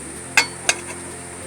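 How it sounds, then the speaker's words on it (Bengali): A metal lid is set back onto a pot of baking cake with two sharp, close clinks about a third of a second apart, then quiet. "আমি আবার ঢাকা দিয়ে দিচ্ছি"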